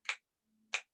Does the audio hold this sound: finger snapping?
yes